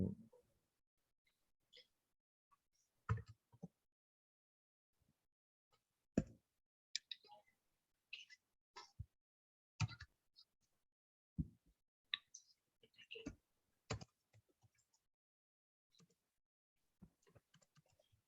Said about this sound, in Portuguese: Então, tenta digitar. Vou digitar.